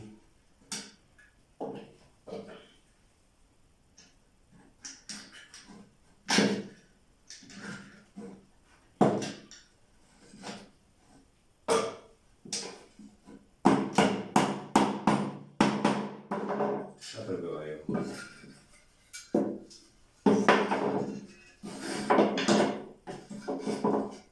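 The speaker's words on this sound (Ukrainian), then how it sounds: "Я прибиваю його на плече" Nail being hammered into a wooden beehive frame while fitting wire, heard as irregular bursts of close, sharp wooden knocks, sparse at first and then denser taps in quick clusters.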